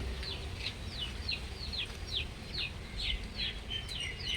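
A chicken chick peeps at an outdoor wood-fire cooking spot, a steady series of thin, high descending cheeps repeating about twice a second over a low background rumble.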